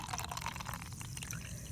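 Sparkling water poured from a can into a glass gives a steady fizzing, gurgling stream, close and quiet, lasting under two seconds without talk.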